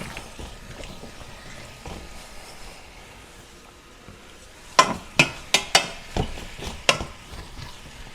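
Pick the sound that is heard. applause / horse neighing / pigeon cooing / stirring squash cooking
stirring squash cooking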